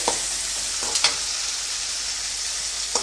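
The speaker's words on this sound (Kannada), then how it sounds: "ಅವಲಕ್ಕಿ ಮಾಡ್ಕೊಳ್ಳೋದಕ್ಕೆ ಒಗ್ಗರಣೆ ರೆಡಿಯಾಗಿದೆ" A tempering of spices for poha sizzles steadily in a hot pan, a continuous close hiss broken by a few brief sharp crackles and pops.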